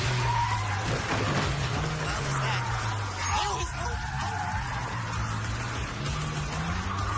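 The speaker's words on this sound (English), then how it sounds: "This car's not ideal for backing up through a slalom" A car towing a trailer reverses through a slalom course on a test track, its engine droning steadily with faint tire scrubbing beneath, at moderate distance and fairly quiet.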